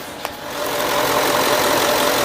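A 2007 Range Rover Sport 3.6-litre V8 engine starts with a brief click and settles into a steady, rumbling idle, close up and continuous.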